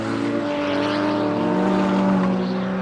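Stock cars, including a Ford Sierra and a BMW, roar steadily around an oval track in a loud, continuous engine drone with layered tones from several cars racing close together.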